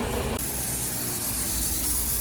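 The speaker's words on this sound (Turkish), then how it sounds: "Kazan bu şekilde yağlanıyor" A concrete mixer truck's drum being greased gives a loud, steady hissing spray that runs unbroken and close, with a low mechanical rumble underneath.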